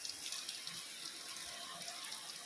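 Water runs and splashes over the graphene-coated, hydrophobic paint of a Toyota Hilux Conquest, a steady, close hiss lasting the whole moment with no voices.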